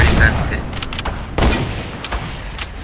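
Gunfire in Fortnite, several loud booming shots in quick bursts, with a sharp cluster near the start and another around the middle, then fading reverberant echoes.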